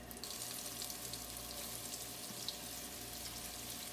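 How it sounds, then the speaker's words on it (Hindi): Paneer cottage cheese going into a quarter cup of hot oil, a faint continuous sizzle and crackle with a low steady hum underneath, no talk. "1/4 कप ऑयल डाल दें, तेल को थोड़ा गर्म होने दें। अब इसके अंदर पनीर डालेंगे।"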